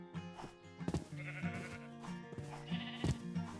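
Sheep bleat in a wavering, nasal call repeated two or three times, quiet and close amid a game farm setting, with no speech over it.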